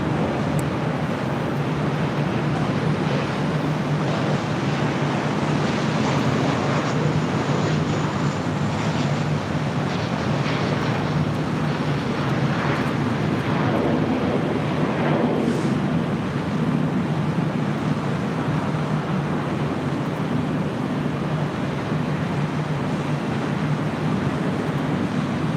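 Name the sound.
Southwest Airlines plane landing at LAX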